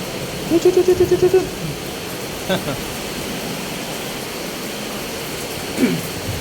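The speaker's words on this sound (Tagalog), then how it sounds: "Lakas ng ulan." Heavy rain pours down as a steady, even hiss of falling water that never lets up, broken by a few brief nearby voice-like calls and thumps.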